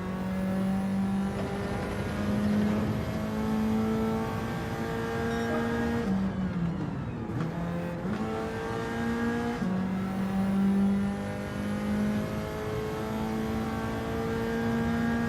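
A race car engine in Gran Turismo 7 drones loudly and steadily, dipping briefly around the middle as the revs drop and shifting pitch before climbing again and holding at high revs.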